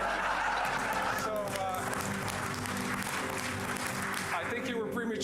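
Applause from the gallery of a legislative House chamber, a sustained wash of clapping from a crowd with scattered chuckles mixed in, steady throughout the moment.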